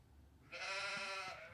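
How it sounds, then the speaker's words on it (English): A single sheep bleats loudly and alone for about a second, a steady harmonic-rich call that starts abruptly and then cuts off. "What did the sheep say"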